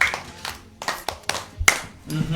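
Schoolchildren clapping for a classmate in a short, ragged burst of several uneven claps, close and fairly loud, with the claps tapering off toward the end.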